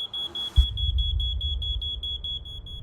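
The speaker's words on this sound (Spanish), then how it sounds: "Behailou Kebede despierta con su alarma de humo poco antes de la 1 de la madrugada" Smoke alarm in a fourth-floor flat of a London tower block, sounding a steady, loud, continuous high-pitched tone with rapid chirping pulses, over a low rumble and a thud near the start.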